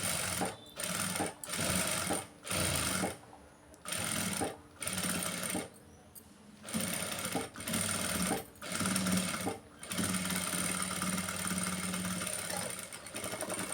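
A sewing machine stitches a blouse hem in repeated runs of a second or so, its rapid needle chatter starting and stopping with short pauses, then running longer toward the end, close up.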